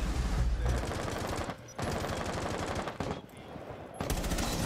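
Rapid automatic gunfire in the video game Rainbow Six, loud, close bursts of fast repeated shots broken by short pauses.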